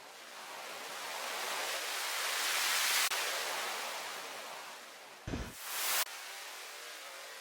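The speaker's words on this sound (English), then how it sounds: "This riser white noise is one that I use a little too often." A white noise riser in a music production swells steadily louder for about three seconds, then another burst of hiss rises and cuts off abruptly, followed by quieter noise.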